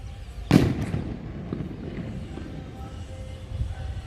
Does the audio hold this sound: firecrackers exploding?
yes